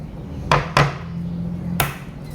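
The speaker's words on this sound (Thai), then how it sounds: "คุณยายจะตอกไข่ก่อนนะคะ" An egg being cracked for homemade cooked-egg mayonnaise: a few sharp taps against a hard edge, two close together then a third after a pause, loud and close over a low steady background hum.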